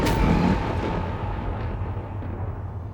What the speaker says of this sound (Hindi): ये कैसी गड़गड़ाहट है?